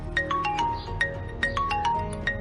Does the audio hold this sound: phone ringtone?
yes